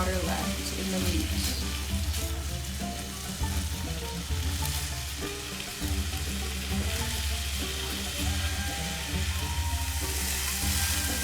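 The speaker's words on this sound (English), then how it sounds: "just stirring it, frying it until there's no oil or water left in the meat" Minced meat with black pepper sizzles and fries in a pan for Kenyan street-food samosas, a constant close crackle with occasional stirring scrapes and no talk.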